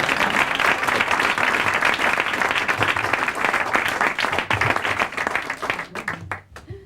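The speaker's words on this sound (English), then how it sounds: "That applause was for me" Loud, sustained audience applause at a live show, a steady wash of many hands clapping that thins into a few scattered, distinct claps near the end.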